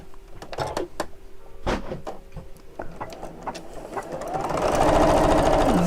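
A sewing machine stitches darts, running in short bursts with brief pauses, then settling into a longer, steady whirring run toward the end, close and clear with no talk.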